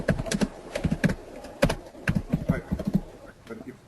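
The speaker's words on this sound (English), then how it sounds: "we can hear you typing" Rapid clicking of computer keyboard keys in irregular bursts, fairly close and clear, picked up over an open microphone during an online call.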